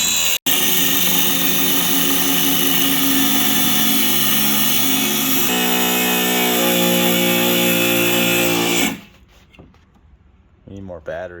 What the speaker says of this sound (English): Have you ever used an angle grinder, bro?